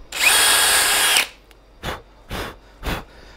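A power drill whirs loudly for about a second while boring holes in a wooden guitar headstock, then stops; three short soft bursts follow at even intervals.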